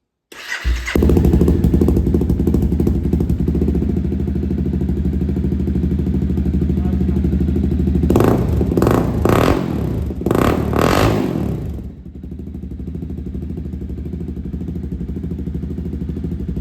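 A Honda CBR 300R motorcycle fitted with an upgraded exhaust starts up and idles with a throaty, loud rumble, then gets blipped in several sharp revs before settling back to a steady idle.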